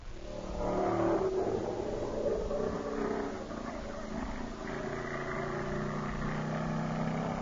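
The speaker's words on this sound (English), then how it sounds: "Do we have any sound effects for the West Peabody Speedway?" Stock car racing at the West Peabody Speedway plays as a sound effect, car engines droning and revving steadily with a loud surge near the start, no talk over it.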